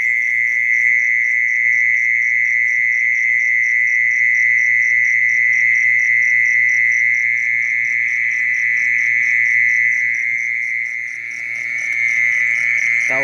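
A recorded mole cricket call plays from a speaker over a dug trap to lure crickets at night, a loud continuous shrill trilling buzz that holds steady and close for the whole stretch, briefly dipping near the end, with no talk.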